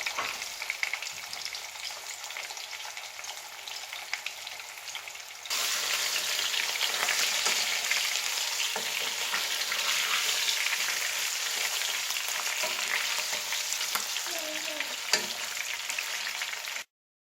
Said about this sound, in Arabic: كنحمروا الدجاجة في الزيت من كلا الجوانب. كنقليوها في الزيت.